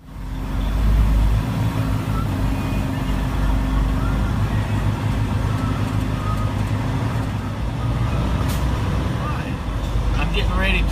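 A semi truck maneuvering to drop its trailer at a Lowe's distribution center gives a steady, loud low diesel rumble that holds throughout, with a couple of faint higher clicks and squeaks near the end.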